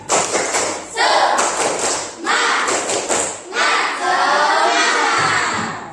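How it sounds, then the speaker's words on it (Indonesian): A class of children performs the 'tepuk semangat' rhythmic clap chant in an Indonesian classroom, bursts of patterned clapping alternating with loud shouted chanting voices, with brief pauses between phrases. "Coba tepuk semangat"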